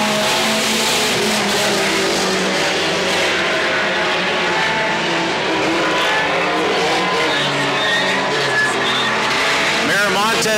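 Mini stock race cars racing at Petaluma Speedway, loud continuous engine roar and revving from several cars passing close, with a commentator talking over it.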